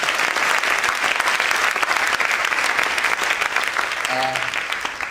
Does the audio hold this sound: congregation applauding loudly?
yes